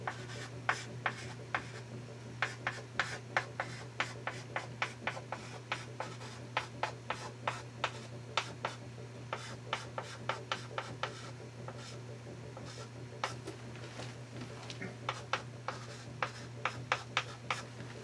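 A pen writing out a math expression on paper, with steady rapid scratching strokes and small taps repeating throughout, close up over a constant low hum.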